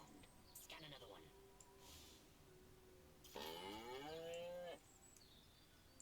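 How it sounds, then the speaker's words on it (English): Cows in the alien-invasion video game Destroy All Humans give two clear moos, a shorter one early and a louder, longer one midway, over steady outdoor ambience. "Again with the moo."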